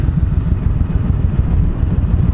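A motorcycle engine rumbles steadily as the bike rides off, a dense, fairly loud low drone that holds without pause for a couple of seconds.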